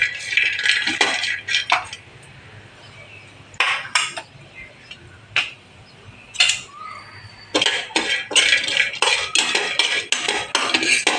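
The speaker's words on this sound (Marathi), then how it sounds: "अक्रोड, बदाम, काजूगर सगळं गरम करून घेणार आहे" Walnuts, almonds and cashews roasting in a pan, heard as bursts of clinking and scraping of a utensil against the metal, loud and close, with short pauses between stirring runs.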